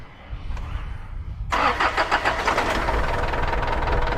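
A boom truck's diesel engine sits quiet at first, then cranks and catches abruptly midway, settling into a loud, rough, rumbling idle close by.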